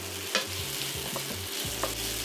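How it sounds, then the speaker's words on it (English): Onions, carrots and peppers sauteing with garlic ginger paste in a pan for rice and kidney beans, a steady soft sizzle with a few scraping stirs and utensil knocks, close and moderately quiet, no voices. "The onions, carrots and the peppers have nicely sauteed here."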